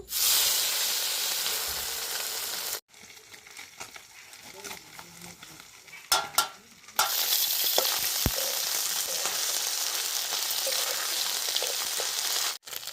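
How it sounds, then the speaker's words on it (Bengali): Small mourala fish fry in hot oil in a wok, a loud, dense sizzle that drops away for a few seconds midway, then returns strongly with occasional clinks and stirring. "তেল গরম হয়ে গেছে এবার মাছগুলো ভেজে নেব"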